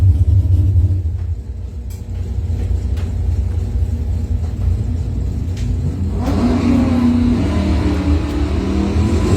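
Doorslammer drag race cars, a Mopar and a Mustang, rumble loudly at a test-and-tune event, with the deep engine drone swelling into a sharper rev toward the end.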